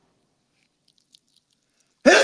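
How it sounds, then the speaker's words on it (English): A single sharp, forceful sneeze bursts out suddenly after near silence, loud and close. "I'm going to sneeze."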